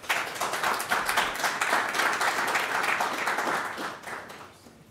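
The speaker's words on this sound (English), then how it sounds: "Let's give a round of applause." A lecture audience at the PIER lecture series on electric grid reliability applauds steadily for several seconds, a dense wash of clapping that fades out toward the end.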